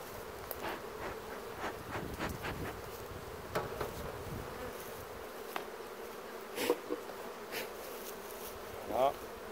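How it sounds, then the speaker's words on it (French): Honeybees buzzing at a hive entrance, a steady hum with individual bees droning past the microphone now and then. "Et là normalement toutes les abeilles vont rentrer."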